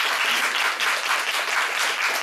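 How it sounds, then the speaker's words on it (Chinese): A live audience at a Taipei discussion-and-Q&A session claps steadily, a dense even applause sustained throughout without speech. "请大家再给他们一个掌声。"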